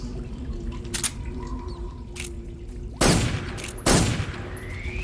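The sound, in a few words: stun grenades going off in video game Metal Gear Solid 3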